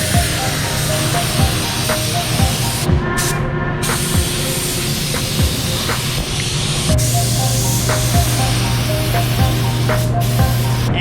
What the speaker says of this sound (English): We're gonna spray it on everything that needs it, except the taillights.